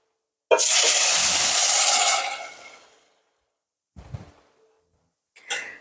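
Chicken stock and water are poured into a pot of brown rice, a loud splashing pour lasting about two seconds that tapers off, followed by a couple of brief clanks and splashes.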